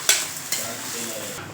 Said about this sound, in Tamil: இந்த சூட்லேயே நல்லா மிக்ஸ் பண்ணிப்போங்க